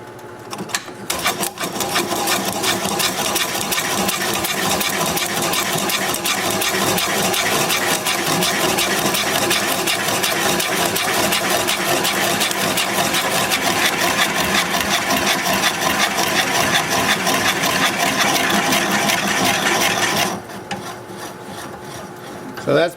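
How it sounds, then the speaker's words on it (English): A wood lathe turning at 170 rpm bores into a root ball, giving a continuous loud rasping, chattering scrape of the cutting tool that runs steadily, then stops abruptly near the end. "I've got the lathe spinning at 170."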